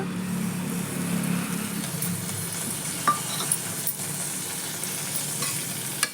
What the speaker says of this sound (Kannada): ಈಗ ಹಚ್ಚಿಟ್ಕೊಂಡಿರೋ ಟೊಮೆಟೊ ಹಾಕ್ಕೊಳ್ಳೋಣ.